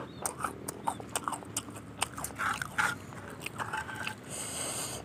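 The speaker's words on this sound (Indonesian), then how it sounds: "Kalau makan kedok lenca jangan terburu-buru," Close, crunchy chewing of karedok leunca, a raw Sundanese vegetable salad with leunca berries, with irregular bites and soft mouth sounds throughout, no talking.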